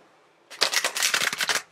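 Brisk riffling of tarot cards being shuffled, a quick run of crisp flutters and snaps after a short quiet start, close and fairly loud.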